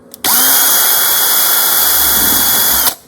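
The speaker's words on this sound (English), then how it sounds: "If the clay was dry enough, you can actually drill through." A power drill bit bores into a clay pot that is too soft for drilling, a steady loud whine that starts abruptly, holds for nearly three seconds, then cuts off.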